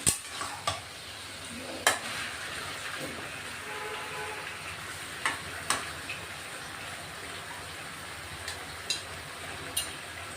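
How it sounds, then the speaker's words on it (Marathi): Marinated chicken with salt, turmeric and ginger-garlic paste sautés in a pan over a quiet, steady sizzle, punctuated by several sharp scrapes and knocks of a spoon against the metal as it is stirred. "चांगलं परतून घ्यायचं आहे आपण।"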